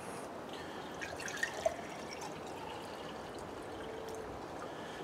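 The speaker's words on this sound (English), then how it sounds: "I'm going to take some of our control water, this murky nastiness, and I'm going to pour it in this glass as a control." Murky control water is poured into a glass, a soft, continuous trickle with a few faint drips and clinks, fairly quiet and unaccompanied by talk.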